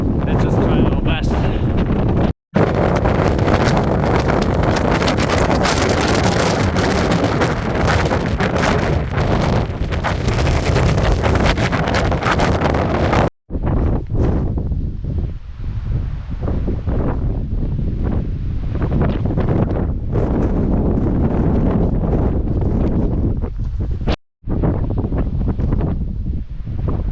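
Strong gusting wind roars and buffets the microphone on an exposed alpine track of the Tongariro Alpine Crossing, loud and continuous with brief dropouts, while hikers talk over it.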